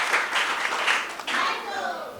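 Students clapping at a school maths quiz contest, a close, moderately loud wash of applause lasting a couple of seconds, with a short dip in the middle and a few voices mixed in.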